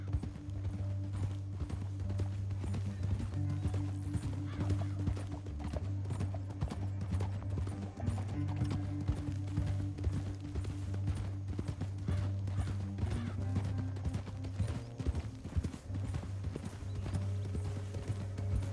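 Fast, continuous hoofbeats of horses galloping in the video game Red Dead Redemption 2, steady and rhythmic for the whole stretch, over a low sustained drone.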